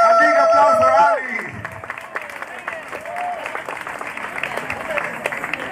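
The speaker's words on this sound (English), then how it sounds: "A big applause for Ali!" Crowd applause for Ali at a farewell party, a steady clatter of clapping rising after a loud sung or shouted note, with voices calling out over it.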